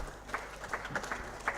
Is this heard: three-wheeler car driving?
no